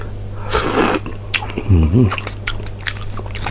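Wet biting and chewing of crab with crab roe, part of a spicy Thai yam salad from a Chonburi shop, close to the mic, with crunchy and squelchy bites, a short burst of noise and a low hum in the background.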